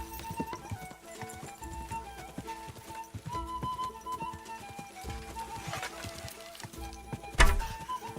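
Horse hooves in Kingdom Come Deliverance 2, a steady clip-clop of a trotting horse close by, with creaking tack and a sharp louder knock near the end.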